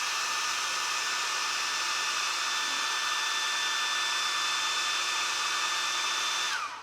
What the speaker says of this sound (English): You put your yellow down, heat dry it.